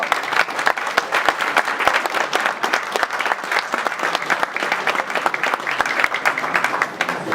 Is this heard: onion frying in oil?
no